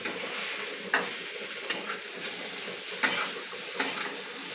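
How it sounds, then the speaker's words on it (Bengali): A spatula stirs fish curry in a hot pan, with a steady sizzle and frying hiss broken by several sharp scraping strokes at irregular intervals, close and clear. "খুন্তি দিয়ে নেড়ে নিচ্ছে"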